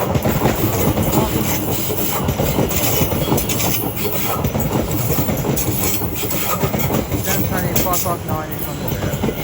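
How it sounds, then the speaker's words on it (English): Greater Anglia passenger train arriving at Shenfield station on the Great Eastern Main Line, a loud continuous rumble of wheels and engine with rail squeal near the end, passing close by. "Incoming now is the heavily delayed 1559 Greater Anglia service to Southern Victoria"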